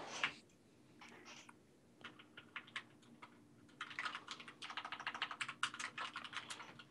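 Quick bursts of keystrokes on a computer keyboard while notes are typed, starting sparse and scattered, then turning into a denser, steady run of clicks, close and fairly quiet.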